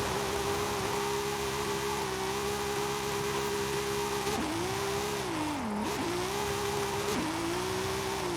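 A tuned 2014 BMW M4 engine in Forza Horizon 5 drones steadily at high revs, pitch dipping and rising as it slides in a drift, over constant hissing tire and road noise.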